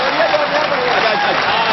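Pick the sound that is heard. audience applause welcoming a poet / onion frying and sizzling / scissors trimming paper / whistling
audience applause welcoming a poet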